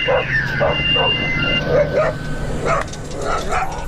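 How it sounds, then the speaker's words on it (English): Three dogs barking and yipping repeatedly nearby, several short sharp barks in bursts with a whine mixed in, over steady background hum. "I'm sorry about the dogs."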